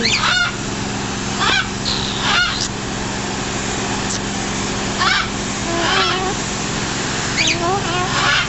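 Geese honking repeatedly at close range in an aviary, loud nasal calls over a constant low hum and background noise.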